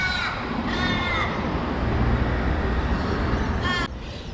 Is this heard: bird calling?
yes